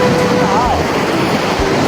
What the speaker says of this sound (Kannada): ಅಲೆಗಳು ಮಾತ್ರ ನೋಡಿ ಗೈಸ್, ಗಾಳಿ ಮಾತ್ರ ತುಂಬಾ ಜೋರಾಗಿದೆ